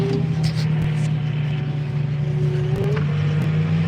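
Steady drone of a farm tractor engine idling nearby on a muddy farmyard, with a constant low hum and a few faint clanks and knocks, no voices.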